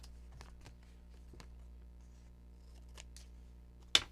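Scissors trimming the tails of craft paper: a few sparse, crisp snips over a low steady hum, with one sharper, louder cut at the end.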